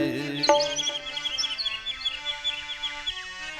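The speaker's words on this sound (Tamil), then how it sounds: "குயிலி சத்தம் கேட்குது குருவி சத்தம் பாடுது" Small birds chirp in quick, repeated tweets over a sustained tonal background, the calls continuing steadily throughout.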